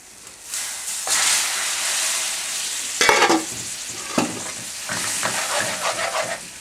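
Curry base gravy hits a hot pan for a vindaloo and bursts into loud, steady sizzling, with stirring scrapes and bubbling flare-ups, up close.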